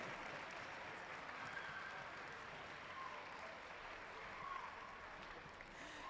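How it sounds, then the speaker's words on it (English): A crowd in a hall at a robotics championship claps for event volunteers, a sustained, even wash of applause that stays steady and fairly distant, then fades slightly near the end. "Please give a huge round of applause to all your event volunteers."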